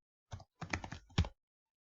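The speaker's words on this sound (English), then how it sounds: "So I will just type the ADB devices." Short bursts of typing on a computer keyboard entering a command, a few quick clustered keystrokes in close quiet, then silence.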